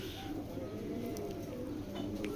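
Racing pigeons at a loft coo in soft, repeated low throaty calls close by, with a steady background murmur and a few faint chirps.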